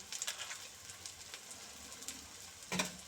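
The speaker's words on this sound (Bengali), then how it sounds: "একটু ফ্রাই করে নেওয়া" Chicken sizzling in a pan with a little Maggi masala, a steady soft frying crackle with brief louder pops and a stir near the end, close by and with no talk.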